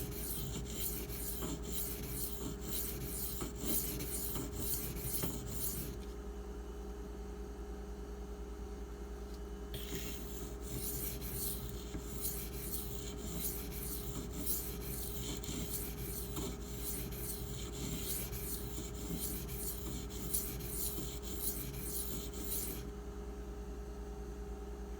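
A knife being sharpened on a 400 grit HAIDU silicon carbide stone: steady rhythmic scraping strokes over a constant low hum, with a brief pause in the strokes before they resume and continue.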